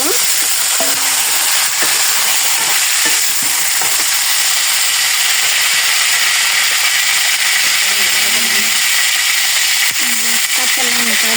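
Vegetables sizzle loudly in a hot pan, a steady dense frying hiss throughout with occasional stirring clatter and a voice speaking now and then.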